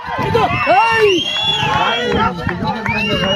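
A crowd at a village pulling competition shouts and cheers loudly, with many overlapping raised voices and whoops forming a continuous, lively din close by.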